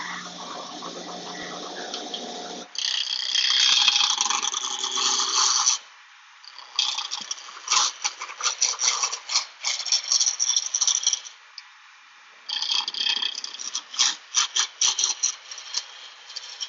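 A large spindle gouge cuts a wood spindle on a Shopsmith Mark V lathe, giving a loud, close rattling chatter in several bursts with brief pauses between cuts.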